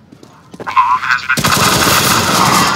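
Automatic AK rifle fire in Counter-Strike: Global Offensive, a loud rapid burst that starts abruptly partway through and continues as sustained gunfire, after a few brief sharp sounds and some voice-like tones earlier.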